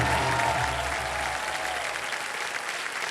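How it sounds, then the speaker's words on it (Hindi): Studio audience on the KBC (Kaun Banega Crorepati) quiz show bursts into loud, sustained applause, a dense wash of many hands clapping that holds steady and eases slightly toward the end. "एक बार जोरदार तालियां बजते हैं"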